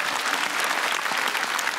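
Audience applause at a Comedy Club stand-up show, a dense, steady wash of many hands clapping throughout, fairly loud and continuous with no talk over it.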